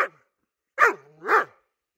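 A dog gives a short yelp, then a louder bark that slides into a rising-and-falling whine, all close by, with stretches of silence between the sounds.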